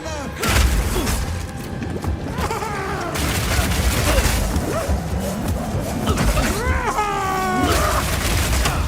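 Piercing Shot skill effects from the action RPG Path of Exile 2 during combat: dense, continuous bursts of impacts, whooshes and booming hits with rising tonal swooshes, loud and layered throughout, with no clear speech.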